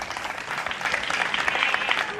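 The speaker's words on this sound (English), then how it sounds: "Clap for them." Applause from a crowd at a pre-school annual graduation ceremony, honoring the graduating children, sustained, dense clapping throughout at steady moderate loudness.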